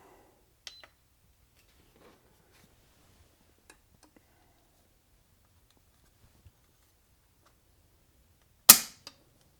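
A Geissele Hi-Speed National Match trigger on an AR-15 breaks with one sharp, loud snap during a pull-weight test, preceded by a few faint ticks in an otherwise quiet room.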